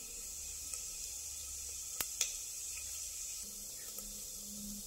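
Cumin seeds hiss and sizzle in hot oil for restaurant-style jeera rice, a steady close crackle broken by a couple of sharp clicks as the seeds go in.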